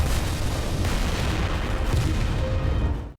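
A film's suicide bomb explosion roars as a loud, sustained, rumbling blast filling the whole clip before cutting off abruptly at the end.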